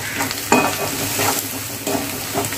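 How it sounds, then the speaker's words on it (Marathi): Chole with red masala is stirred in a hot pan, where a continuous sizzle rises in bursts as the spoon scrapes through the curry at an unhurried, repeated pace. No one talks. "चला तर आपण याला चांगला हलवून घेऊया, छान असं हलवून घेऊया."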